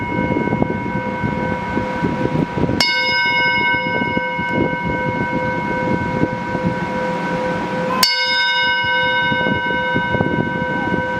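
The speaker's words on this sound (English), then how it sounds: "with 3 rings of the bell, I invite you to begin your 20 minutes of wandering" A bell rings at a church service, with two clear, sharp strikes whose long ringing tones sustain and decay over a soft background hum.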